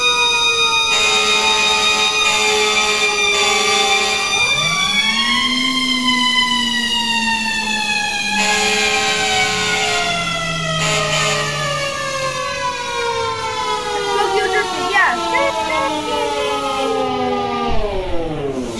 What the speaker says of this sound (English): It's not letting go of the cue siren.